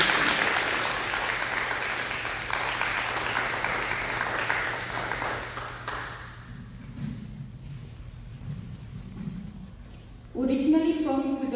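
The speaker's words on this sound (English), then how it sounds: "Please give her a big round of applause" Audience applause at a women's award gala marking a coalition's tenth anniversary, a dense, steady clapping crowd for roughly six seconds that thins and fades, followed by a quieter stretch and then a voice speaking at the end.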